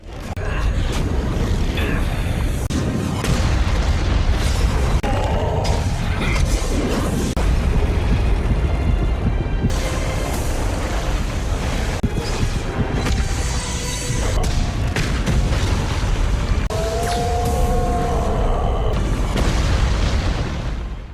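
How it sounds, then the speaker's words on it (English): A massive explosion in an animated fantasy battle, a dense sustained roar of booming rumble and crashing debris that stays loud throughout, with whooshing and tonal effects layered in. "When Yuano's body became as small as a neutron, a massive explosion went off,"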